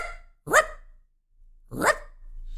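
A streamer's voice imitating a dog: two loud, sharp barks separated by about a second of silence, close to the microphone.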